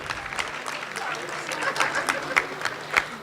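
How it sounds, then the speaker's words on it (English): A crowd at an awards ceremony applauds, a dense patter of clapping hands rising slightly in strength across the few seconds. "A big round of applause to our employees."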